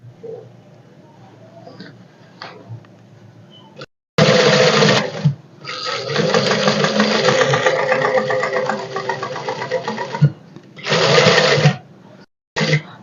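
Sewing machine stitching the side seam of a party-wear dress from chest to hip, loud running bursts of needle chatter with short pauses, alone after quiet low background.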